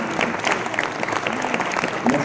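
An audience at a public forum on Europe and its regions claps for a departing speaker, with sustained mixed clapping and some crowd murmur.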